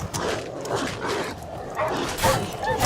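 Hostile high-level dogs in The Witcher 3: Wild Hunt bark and yip in a combat scene, several quick snarling barks with whimpers mixed into loud game noise.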